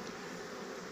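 Honey bees fanning at the hive entrance, a close, steady buzzing drone with no break.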